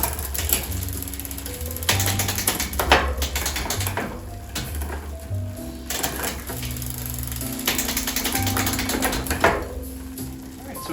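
A bicycle derailleur clicks and ratchets through gear shifts as the drivetrain spins, repeated mechanical clicks and whirring bursts at close range, with brief talk in between.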